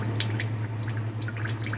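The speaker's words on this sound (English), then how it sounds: "you can see the drips in some of the holes, and then some of it is coming down" Water drips and trickles through small holes poked in a plastic bottle fountain, a steady patter of faint droplets over a constant low hum.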